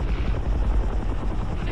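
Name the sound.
helicopter flying in the video game Arma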